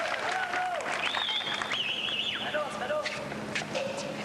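French supporters in a tennis crowd at a 1996 Miami match cheer and call out, a continuous mass of voices with whistles and shouted tones rising over steady crowd noise.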